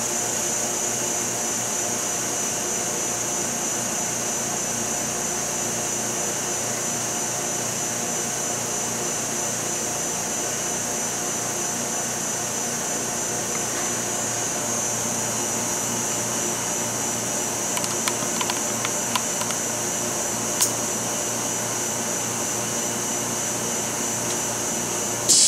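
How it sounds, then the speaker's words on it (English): An EVG 520 wafer bonder's vacuum pump pumps down the bond chamber, a loud, steady mechanical whine and hiss with a constant high tone that runs unbroken, with a few faint clicks near the end. "Pump down step and you'll see the vacuum reading drop."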